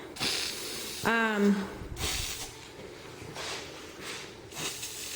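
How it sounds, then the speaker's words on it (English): Short bursts of hissing from a spray paint can repeat several times, close by, as tiles are lightly sprayed, with a brief voice sound in between. "You do a light spray on all your tiles."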